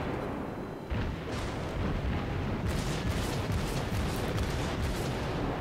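Heavy naval gunfire from armor-piercing shells in World of Warships, a Tier 4 Kuma cruiser under fire, a loud continuous barrage of booming blasts and crackling impacts that starts after a brief lull and keeps pounding densely to the end.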